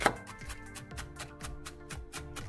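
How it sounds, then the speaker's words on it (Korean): A knife finely mincing Cheongyang chili peppers on a board, with quick, evenly spaced chops in a steady rhythm, close and fairly soft. "청양고추 5개를 잘게 다져줍니다"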